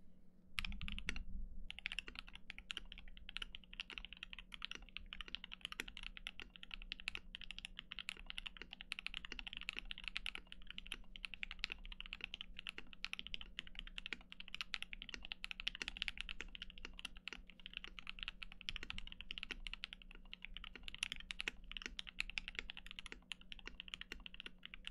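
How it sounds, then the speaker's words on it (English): A custom mechanical keyboard is typed on for a long stretch, with fast, steady clicky keystrokes close to the microphone and a low background hum, and no voices. "Let's listen to this keyboard real quick."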